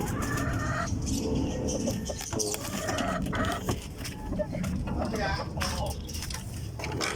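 Sweater gray gamefowl chickens clucking in a backyard pen, scattered close clucks and bird calls mixed with someone talking over them.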